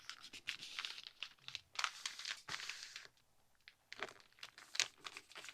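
Paper flap of a handmade fall treat bag being folded down, with close, soft crinkling and crunching in quick bursts, a brief quiet pause, then more rustling.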